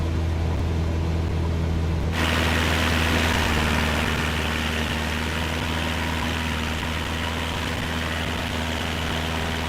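A Cessna 172 engine drones steadily in flight on an RNAV flyover from Boeing Field toward Mount St. Helens, a loud continuous hum with strong low tones and broadband cabin noise that fills the whole clip without talk.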